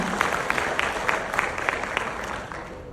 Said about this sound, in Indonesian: Tepuk tangan dulu untuk Atomify Sun.